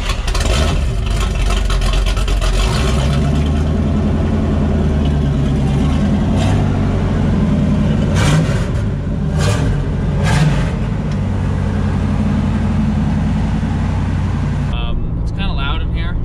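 A loud 305 small-block Chevy V8 with no exhaust roars and revs continuously, raw and throaty, with a few sharp pops toward the end.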